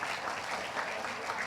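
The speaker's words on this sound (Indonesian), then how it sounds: "Kasih tepuk tangan dong buat mereka." A congregation at a church revival service gives the worship team a round of applause. It is a steady wash of many hands clapping at once, fairly faint and heard from a distance.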